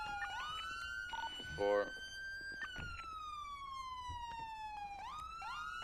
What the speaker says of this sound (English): Siren check.